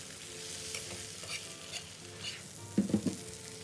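Stuffed brinjal with dried shrimp is mixed by hand in a pan, a soft quiet sizzle and stirring with a few brief louder scrapes near the end.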